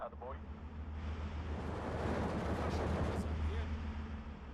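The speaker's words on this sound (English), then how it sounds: "Let's go ahead and mortar them first." Mortar and gunfire in the Steel Division 2 war game, on the Iasi campaign map, form a steady rumbling wash of distant battle noise throughout, with a voice talking over it.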